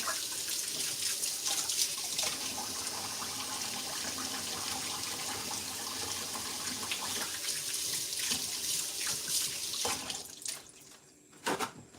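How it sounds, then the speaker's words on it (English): Tap water runs steadily into a sink as hands are washed, a continuous close splashing stream that cuts off near the end with a few drips and a brief clatter. "I'm gonna wash my hands again."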